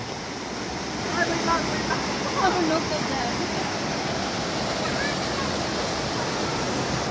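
Kilangin Falls on Mount Banahaw, a broad, steady roar of falling water filling the scene, with faint voices briefly audible beneath the rushing noise.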